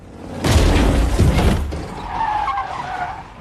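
A blue van with no plates skids hard and crashes into a man, a loud close tire screech and impact that cuts off abruptly, followed by quieter debris and rattling.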